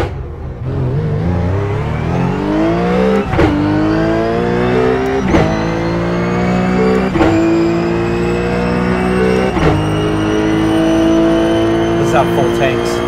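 RUF race car in iRacing, a clutchless paddle-shift car, revving hard and shifting up through gears in a steady rising engine drone, with sharp shift breaks every couple of seconds; a voice talks over it.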